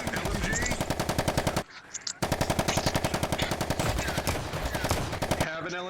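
Light machine gun fire in a VR gang roleplay game, with long rapid bursts of rattling shots close up that break off briefly and then resume continuously, with no talk over it.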